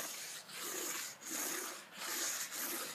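Chalk rubbed steadily across a chalkboard-painted sketchbook cover, a close, dry scraping texture in repeated strokes with brief pauses between passes, heard alone.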